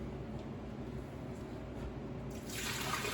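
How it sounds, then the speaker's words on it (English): Tap water runs steadily into a blender jar to rinse it, a continuous close splashing hiss that swells louder near the end, with no voices. "Now I have to rinse the blender really quick."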